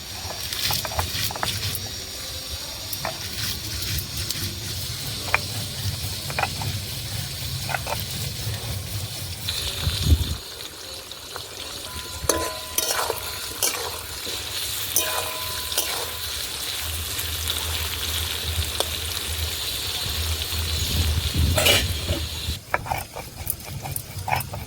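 Dried red chillies are ground on a traditional grinding stone in a village kitchen, with repeated scraping, gritty rubbing strokes at a close, uneven rhythm and a brief pause midway before the grinding resumes.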